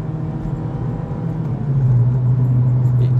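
A rare JDM-import Honda Civic Type R FD2 on the road, its engine droning steadily and then climbing to a louder, higher rev about halfway through, close and continuous with no talk.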